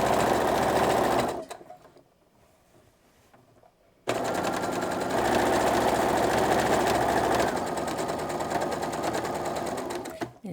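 A sewing machine runs close and loud, stitching a garment seam in a fast steady whir, stops for a couple of seconds, then resumes for a longer continuous run.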